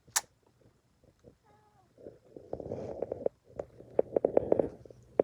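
A pet cat close by makes soft, low rumbling purr-like sounds, followed by a run of short, sharp clicks and rustles that grow louder near the end.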